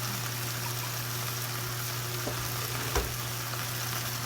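Milk poured into a browning flour mixture for chicken pot pie sizzles in the pan, a steady, dense hiss that stays even throughout, with a faint knock near the end.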